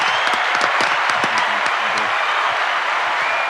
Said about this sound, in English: we should all give ourselves a nice round of applause